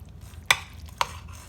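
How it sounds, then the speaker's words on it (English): Pumpkin mac and cheese being mixed gives two brief utensil clinks against the container about half a second apart over a quiet background. "I'm gonna mix that up."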